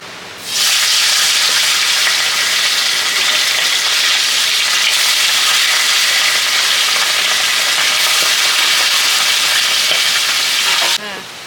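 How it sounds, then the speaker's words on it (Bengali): Fish frying in hot oil in a home kitchen pan gives a loud, dense, continuous sizzle that starts abruptly and holds for about ten seconds before cutting off, close by, with no speech. "মাছটা ভেজে নেই"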